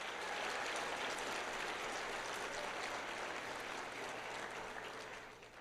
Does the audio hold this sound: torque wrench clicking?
no